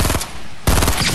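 Rapid bursts of automatic gunfire in a Fortnite duo-versus-squad match, loud and close, with a brief lull before a dense volley resumes.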